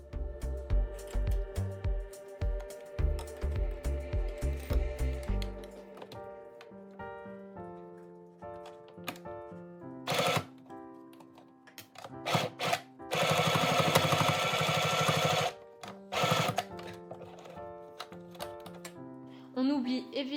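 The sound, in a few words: sewing machine stitching a seam on a child's fabric mask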